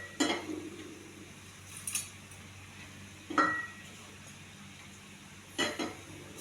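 A spoon clinks against a pot three or four times, in separate sharp taps spread apart, while salt goes into cooked bottle gourd kootu. The taps are light and near, with quiet kitchen stillness between them.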